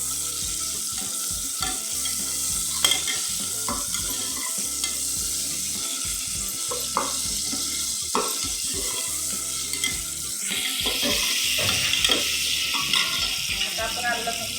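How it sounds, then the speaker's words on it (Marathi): Onion and tomato frying in a pan with salt for festive masale bhaat, a continuous sizzle broken by frequent scraping and clinks of a spoon stirring against the pan, growing slightly louder toward the end. "कांदा टोमॅटो भाजण्यासाठी मी थोडंसं याच्यामध्ये मीठ टाकते, जेणेकरून आपला टोमॅटो पडली भाजला जाईल"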